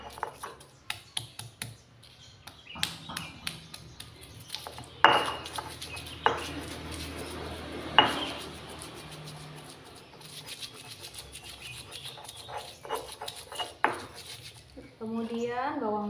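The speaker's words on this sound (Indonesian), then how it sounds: "Lalu kita masukkan, kita haluskan bumbunya." Spice paste for sambal with potato and petai being ground by hand, galangal among the ingredients. Irregular hard taps and scrapes sound close by, with a few louder knocks.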